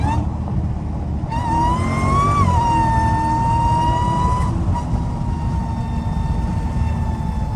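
A Dodge SRT Hellcat pulls hard at half throttle, its deep engine roar overlaid by a loud, rising and then steady whine, heard continuously from inside the car.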